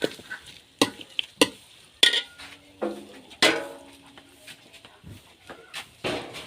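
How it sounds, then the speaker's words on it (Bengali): Grated coconut fries in oil in a pan over a clay stove while a utensil stirs and scrapes it, giving irregular sharp clinks and scrapes over a faint, soft sizzle. "আমি নারকেলগুলো একটু ভেজে নেব, পোড়ানো নারকেলগুলো আর কি, তেলের মধ্যে ভালো করে"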